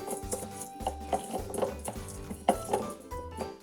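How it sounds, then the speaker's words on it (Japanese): Sliced cucumbers being massaged with salt in a bowl for a quick oi kimchi, giving soft, repeated wet rustling and light scraping against the bowl in an irregular rhythm, close up, with no talk. "お塩そしてめっちゃ揉む"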